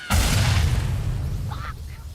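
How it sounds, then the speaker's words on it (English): Grenade explosion in Watch Dogs Legion: a deep, loud boom with a rumbling low-end tail that lingers for about two seconds, while short chirpy game sounds and faint voices drift in near the end. "Watch out, grenade!"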